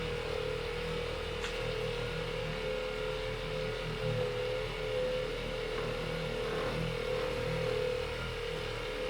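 A Ryobi buffer works wax across the body of a Subaru STI, its motor giving a steady, even whine with a low hum underneath that carries on without a break.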